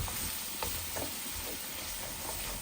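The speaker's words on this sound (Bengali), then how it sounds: "আমার পেঁয়াজটা লাল হয়ে গেছে, আমি এখন সব কারি পাউডার দিয়ে দেব" Chopped onions, already browned, sizzle and fry in a pan while curry powder is stirred in for a Bengali curry, a steady close crackle with soft scraping stirs, no voices.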